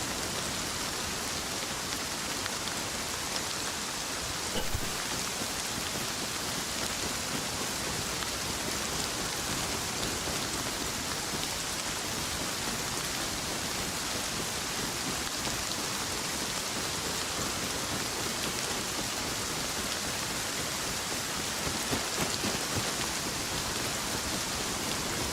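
Heavy rain pours down in the survival video game Rust, a constant, loud wash of hiss with no break or change across the whole stretch.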